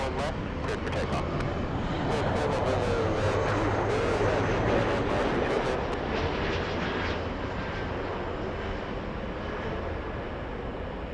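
A heavy jet airliner rolls for takeoff on runway 24 left at LAX, a loud, sustained broadband engine roar that holds steady throughout, with a voice talking over it.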